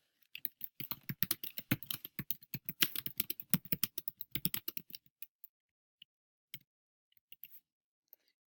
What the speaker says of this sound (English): So all you have to do here is click New Set and type in your questions.